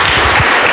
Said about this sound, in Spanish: apláudele fuerte, por favor